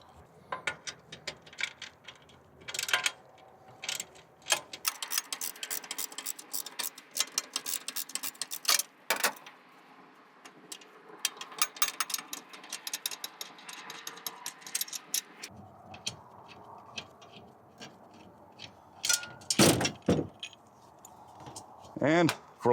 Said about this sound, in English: we're going to need a 1/2-inch wrench to hold the nut on the top side and a 1/2-inch socket